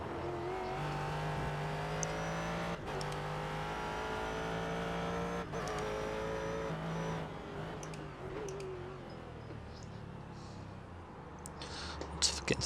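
Race car engine droning steadily in the sim racing game iRacing, a GT car sliding through corners with loud sustained revs and shifting pitch, a voice talking over it.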